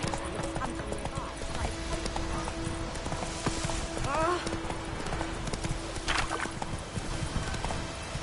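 Roach, the horse in The Witcher 3, runs with steady rapid hoof clip-clops throughout, a brief whinny midway, and game music and ambience underneath.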